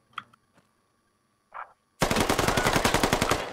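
Automatic gunfire in the military shooter game Squad: a couple of faint distant shots, then a loud, close, rapid burst of machine-gun fire that keeps going to the end.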